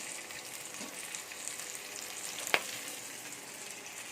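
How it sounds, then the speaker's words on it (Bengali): Chopped tomato fries with onions and green chillies in a pan, giving a soft continuous sizzle with one sharp crackle near the end. "পেঁয়াজগুলো একটু লাল লাল হয়ে এসছে এবার আমি মধ্যে টমেটো কুচিটা দিয়ে দিলাম"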